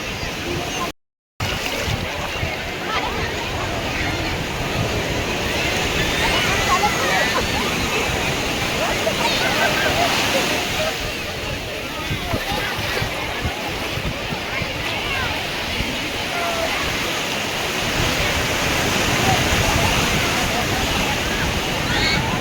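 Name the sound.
sea waves breaking at Panambur beach, Mangalore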